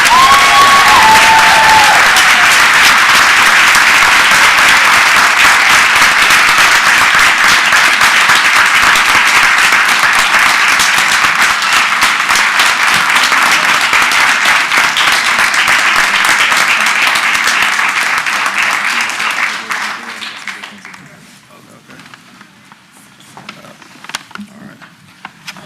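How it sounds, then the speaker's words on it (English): Audience at a school board meeting applauding, a long loud dense round of clapping with some cheering that holds steady for about twenty seconds before dying away into scattered claps and room noise. "Please give him a round of applause."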